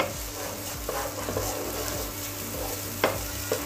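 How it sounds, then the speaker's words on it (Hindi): Sabudana (tapioca pearls) stirred and roasted in a pan, giving a steady sizzle with repeated scraping strokes and a few sharper clinks of the spoon against the pan. "एक दो मिनट हम इसे ऐसे ही चलाएंगे"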